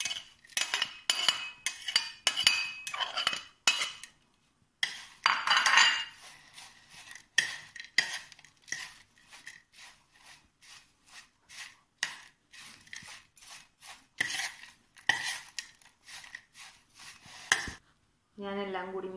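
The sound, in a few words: mixing fried beef, sautéed onion and curry leaves for filling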